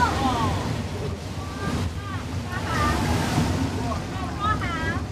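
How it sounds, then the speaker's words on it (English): Flash flood water effect on the Universal Studios Hollywood backlot tour, a steady rushing wash of water and wind noise lasting throughout, with tour-guide talk over it. "It's a flash flood, look out!"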